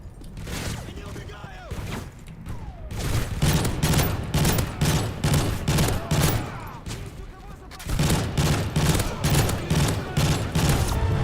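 Rapid bursts of gunfire and heavy explosions from an airstrike in Call of Duty Modern Warfare 3, loud and sustained with repeated sharp volleys and booms across the whole stretch.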